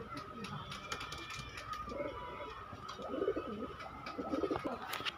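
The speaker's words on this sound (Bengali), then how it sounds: "দর্শক এখানে আরও অনেক কিছু কবুতর আছে" Pigeons coo in a crowded Khulna bird market, a few low rolling calls rising out of steady background chatter and noise, getting a little louder toward the end.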